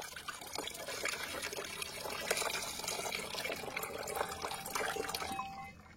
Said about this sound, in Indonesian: kita tuangkan seperti ini.